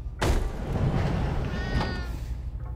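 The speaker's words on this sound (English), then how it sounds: "Ooh, kitty cat." A cat in the game Baby in Yellow gives a drawn-out meow over loud rumbling ambient noise, starting after a sharp thump.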